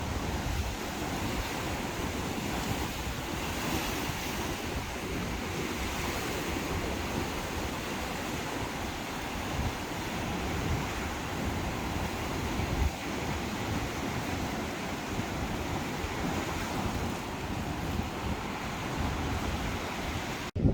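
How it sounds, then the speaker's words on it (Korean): Sea waves of the East Sea break steadily on a rocky shore by a fishing village beach near Songdaemal lighthouse, a continuous, dense roar of surf and wind with no talk. "바위도 있고 파도도 치고"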